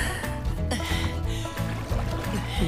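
Oars splash and dip as a boat is rowed across a lake in an anime, the soft watery strokes blending with a steady musical backdrop.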